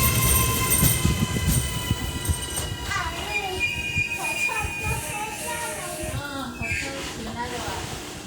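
An AM class electric train runs on an Auckland line, heard from inside with a steady rumble, rising and falling motor whine and some wheel squeal, fairly close and continuous.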